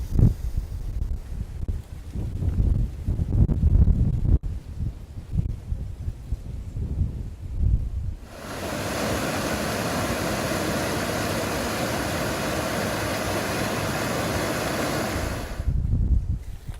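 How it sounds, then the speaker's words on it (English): Gusty wind with rustling, first uneven and rumbling, then a long steady hiss of moving air and leaves before the gusts return. "The wind through those leaves just do something to me"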